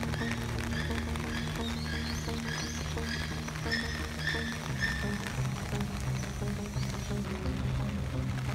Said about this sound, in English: the rain doesn't bother them. Like, they're so used to the rain.